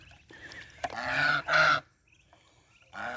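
Muscovy ducks call with harsh, honking bursts close by: a sharp note, then two loud sustained calls, a quiet gap, and another call at the end.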